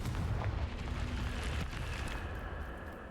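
Confringo fire spell explosion in the video game Hogwarts Legacy, a loud, sustained booming rumble with a fiery roar that slowly fades toward the end.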